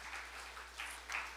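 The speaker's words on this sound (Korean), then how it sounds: "박수로 한번 축하해 드릴까요?" A church congregation applauds to celebrate a member's news of a pregnancy, a steady, soft wash of clapping from a crowd that swells slightly toward the end, with no talking over it.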